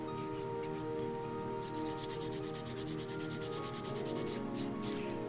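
A 150 grit nail file rubs back and forth across acrylic nails in quick, even rasping strokes, close and steady, with a faint hum beneath and no one talking.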